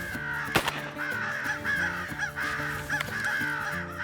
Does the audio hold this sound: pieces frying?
no